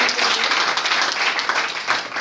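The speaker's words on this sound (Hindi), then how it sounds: "जोरदार ताली" A seminar audience at a new office opening in Madhya Pradesh bursts into loud, sustained clapping that rises and dips slightly over a couple of seconds.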